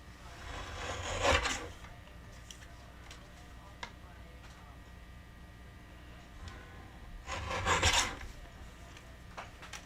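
Paper words for a watercolor background project being trimmed, giving two short rasping cuts about six seconds apart against a quiet room.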